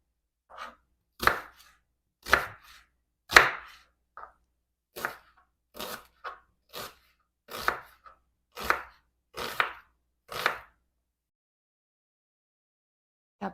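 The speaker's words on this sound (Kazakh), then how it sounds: "Ең бірінші барлығын жақсылап көбіктеп турап аламыз." Tomatoes, onion and garlic for shakshuka are chopped on a board in about a dozen crisp, separate knife strikes at an uneven rhythm, close and clear against silence, with no talking.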